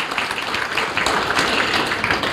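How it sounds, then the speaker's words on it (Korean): Audience applause at the founding ceremony of an education forum at the UN Peace Memorial Hall in Busan, a steady, dense clapping from a crowd filling the room evenly with no break. "박수로 화답하겠습니다"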